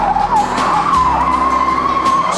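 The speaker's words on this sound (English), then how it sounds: "A skid pad where expert Holden drivers evaluate braking." A Holden car brakes and skids on a skid pad, its tires squealing in one loud, continuous, wavering screech over an engine rumble, close and sustained throughout.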